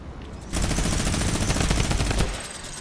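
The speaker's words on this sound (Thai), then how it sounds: "ยิงทะลุมันยิงทะลุเลยนี่หว่า" Sustained automatic gunfire in a video game rattles out as a fast, loud, continuous burst lasting about two seconds, then cuts off abruptly. No voices are heard.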